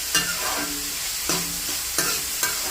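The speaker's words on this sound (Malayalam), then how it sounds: "ഇതെല്ലാം കൂടി ഇട്ട് നല്ലോണം മിക്സാക്കുക." Four quick scraping strokes of a spoon stirring green chilies into a fried rice mixture in a hot pan, each short scrape followed by a soft sizzle, close and fairly quiet.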